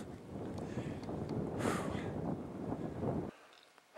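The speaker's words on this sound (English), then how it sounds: "Hit the summit up here and I got a blast of wind coming in." Wind gusts across a mountain summit, a loud rough buffeting roar over the microphone that swells midway and then cuts off abruptly near the end, steady and close with no talk.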